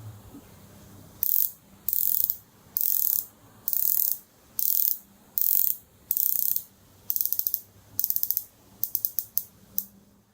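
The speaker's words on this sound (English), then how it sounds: "120 click unidirectional bezel. Bezel action on the Rolex is" A Rolex Submariner's 120-click unidirectional bezel is turned in a series of crisp, close ratcheting bursts, evenly spaced at first and then shorter and quicker near the end, heard alone without speech.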